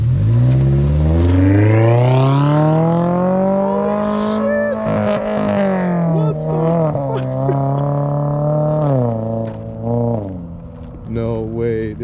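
A 2022 Toyota GR86/Subaru BRZ with a new aftermarket exhaust revs hard at a send-off, loud and close, its pitch climbing and holding before a series of shorter throttle blips near the end.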